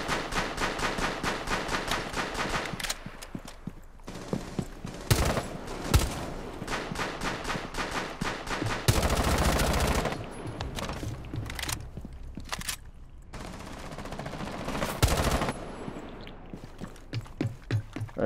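Bursts of automatic gunfire in a ranked shooter match, rapid rattling volleys and sharp single shots separated by short pauses and footsteps, loud and close throughout.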